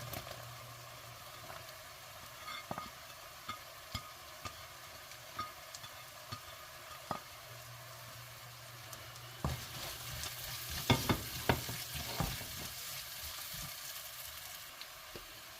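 Sliced onions sautéing in a pan for egg masala: a soft continuous sizzle punctuated by frequent clacks and scrapes of a spoon stirring, growing busier and louder toward the end.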